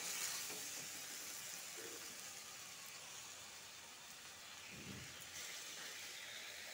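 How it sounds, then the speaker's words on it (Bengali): Malabar spinach and potatoes frying in a pan, a steady soft sizzle and crackle running throughout with faint clinks of a utensil, no talking. "আর একটু ভেজে নিব।"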